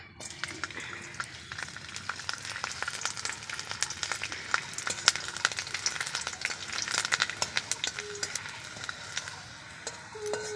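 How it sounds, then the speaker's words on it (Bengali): Garlic fries in hot oil in a wok over a wood-fired stove, crackling with dense, irregular sharp pops and a steady sizzle, close and fairly loud. "কড়াইয়ে দিয়ে দিচ্ছি তেল এই যে আমি এবার রসুন দিয়ে দিচ্ছি"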